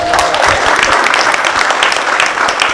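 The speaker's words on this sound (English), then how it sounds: "I'm going to ask for a round of applause for you" Audience applause at a fireside chat on industry and trade, a steady, dense burst of clapping from a large crowd that fills the whole stretch without a break.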